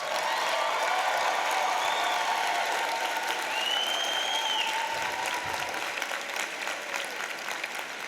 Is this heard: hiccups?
no